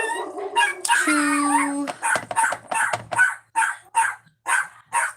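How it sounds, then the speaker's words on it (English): A small dog barks in a rapid run of short yips and yaps from inside a home, fairly close, while a woman counts aloud over the first part as she works on crafts. "my little dog is barking"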